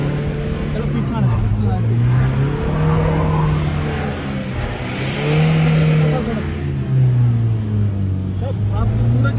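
A stuck car's engine revs hard in long rising and falling surges while a group of people push it on a roadside, voices calling out close by over the steady engine drone.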